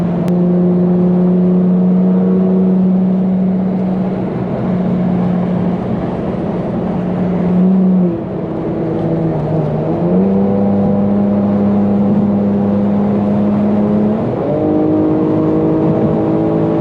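An Infiniti G37 engine and exhaust drone loudly and continuously under hard acceleration, pitch climbing, dipping briefly at a gear change, then rising again.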